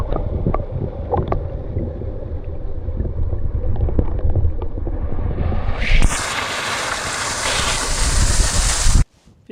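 Wind buffets the microphone on a hilltop walk at the Rhyd Ddu slate quarry, a continuous rumbling roar that swells into a loud rushing blast midway before cutting off abruptly.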